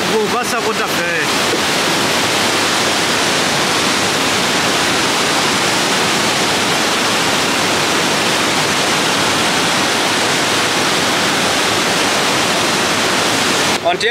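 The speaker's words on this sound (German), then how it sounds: "Wir sind schon wieder an der Weserwehr angekommen. Also da, wo Wasser runterfällt." Water pours over the Weser weir in a steady, loud, close roar of rushing, churning water that fills the whole stretch without a break.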